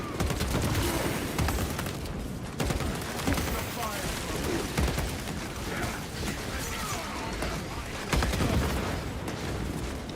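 Gunfire in a Destiny-style first-person shooter video game: a long, dense stretch of rapid shots and crackling impacts, with heavier bursts near the start and again toward the end.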